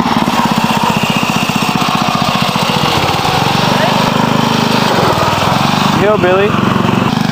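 A lawn mower engine runs loud and steady with a rapid, buzzing throb throughout, while people talk and shout over it.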